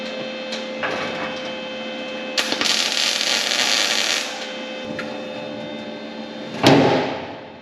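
A rusty car door being wrenched open in a workshop gives a few metallic creaks and clunks, a broad scraping stretch in the middle, and a sharp loud bang near the end.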